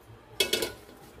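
A few quick metallic clanks of a cooking pot and utensil as sautéed pork is transferred into another pot for bok choy soup, three close knocks in quick succession, then quiet.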